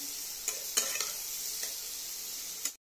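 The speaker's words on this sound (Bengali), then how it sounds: "তারপরে দিচ্ছি জিরের গুঁড়ো পরিমাণ মতন দিয়ে ভালো করে একটু নেড়ে চেড়ে নেবেন।" Cumin powder stirred into a frying spice base for a thin fish curry with bottle gourd and potato makes a bright, close sizzle. Several distinct spatula scrapes punctuate it before it cuts off abruptly.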